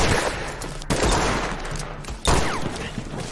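A volley of gunfire in a western gunfight, with sharp bursts of overlapping shots in quick succession, loud and close, in three dense clusters.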